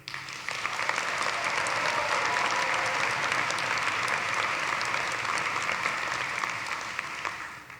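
Dense, sustained applause from a large graduation ceremony audience in a hall, rising quickly and holding at full strength for several seconds before tapering slightly at the end.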